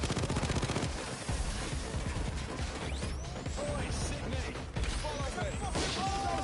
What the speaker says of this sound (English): sentry gun's essentially just going to keep them off me while I'm redoing the drill